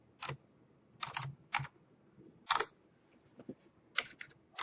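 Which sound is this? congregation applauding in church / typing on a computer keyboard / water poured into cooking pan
typing on a computer keyboard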